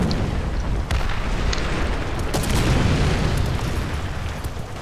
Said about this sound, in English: I'm getting hit by artilleries.